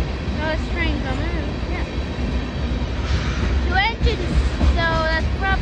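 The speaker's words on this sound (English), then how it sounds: "Oh, this train's coming." An empty BNSF oil train led by locomotive 8006 rolls into Whitefish, Montana, with a loud, continuous rumble of wheels and wagons, squealing rail tones rising and falling, and voices talking over it.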